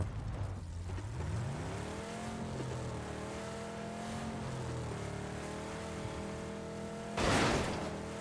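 A car engine in the PUBG video game hums steadily with a rising then wavering pitch as the vehicle drives and shifts speed, ending in a brief loud burst of noise near the end.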